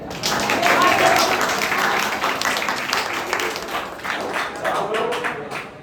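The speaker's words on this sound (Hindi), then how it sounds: "आप लोग तालियां अच्छी नहीं बजाए" An audience at a school Independence Day program claps in a sustained, dense burst of applause that gradually thins out with scattered claps near the end.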